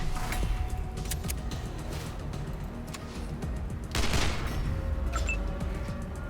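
Gunfire in Wasteland 2, a busy volley of sharp shots and rapid bursts over a steady low rumble, loud and close, with a heavier blast partway through.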